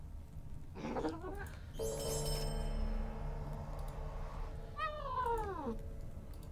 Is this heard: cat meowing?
yes